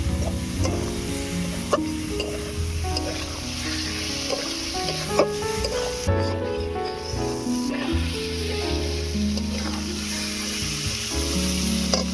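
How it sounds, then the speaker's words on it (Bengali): Shrimp for Bengali chingri jhal fry in a pan with a continuous sizzle and repeated scraping stirs, close up, with no talking. "এবারে চিংড়ি মাছটা কষিয়ে নেব।"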